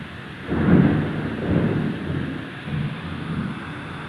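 Strong storm wind buffets a bamboo shed in heavy gusts, a loud rumbling roar that swells and eases in waves with rain hissing steadily underneath.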